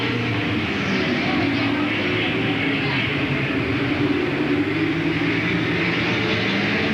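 Late model race cars race at Louisville Motor Speedway in 1994, a loud continuous engine roar with broad rushing noise heard from a distance at the track and no clear talking.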